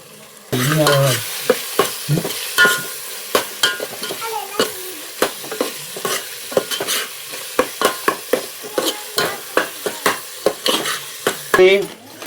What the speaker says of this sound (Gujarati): પાલક સડીને તૈયાર થઈ ગયું છે